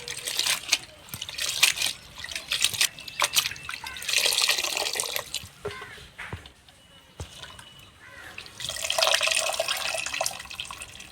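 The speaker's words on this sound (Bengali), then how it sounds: "এখন আমি ভালো করে পরিষ্কার করে ধুয়ে নেব" Chopped bottle gourd leaves are rinsed by hand under running tap water in a sink, a soft steady trickle with splashes and rustling handling, two louder washing bursts, and faint talk at times.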